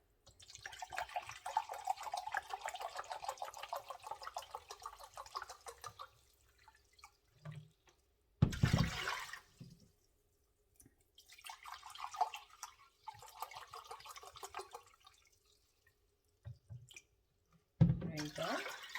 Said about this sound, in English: Okay, so I'll do 6 cups of vinegar.